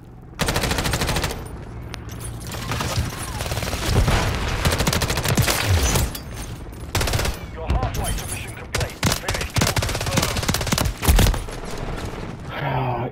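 Rapid automatic gunfire from a 32-round magazine rifle in Call of Duty: Modern Warfare 3 during a Kill Confirmed match, loud sustained bursts with explosions and game effects mixed in across the whole stretch.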